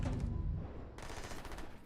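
Rapid bursts of gunfire in the space game Starfield, a short crackling volley that cuts out briefly and then resumes, fairly faint, with no talking.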